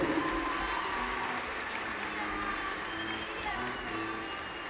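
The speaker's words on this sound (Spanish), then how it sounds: "Un fuerte y cariñoso aplauso para Camila Méndez" An audience at a school cueca dance contest applauds in a broad, continuous patter of many hands that is loudest at the start and then settles into a steady background.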